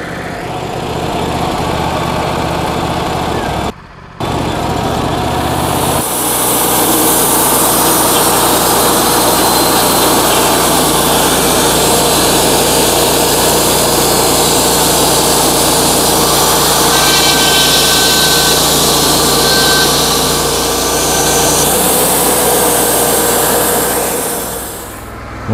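A sawmill blade cuts through a stressed, bowed log, a loud, steady engine-driven whine running for nearly the whole stretch after a brief pause near the start, with no talk.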